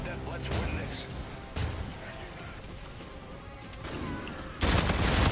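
Bursts of gunfire and impacts in Call of Duty: Infinite Warfare, scattered shots and crashes with a sharp loud burst near the end, mixed under ongoing game noise.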